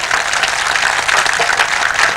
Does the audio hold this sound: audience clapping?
yes